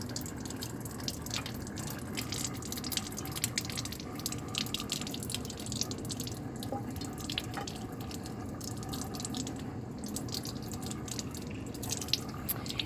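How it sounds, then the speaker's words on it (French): A microscope slide is rinsed on both sides under running tap water, a steady close splashing and trickling stream that continues throughout with no talk. "on rince bien comme il faut la lame des 2 côtés cette fois-ci à l'eau courante"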